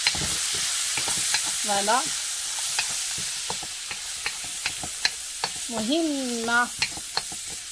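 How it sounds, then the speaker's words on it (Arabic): Vegetables sautéing and being stirred in a hot pan, with a steady close sizzle and frequent scraping clicks throughout; a voice speaks briefly twice. "غادي نسوطيو الخضره حتى هي"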